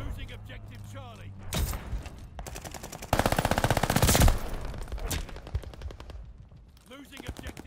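An Armaguerra 43 submachine gun in Call of Duty Vanguard firing rapid, evenly spaced bursts, loudest in one long sustained spray near the middle, close and punchy over game ambience.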